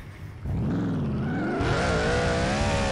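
A car in the video game Turbo Dismount revs up loudly after a brief quieter start, its engine tone rising and wavering continuously, close and alone without talk.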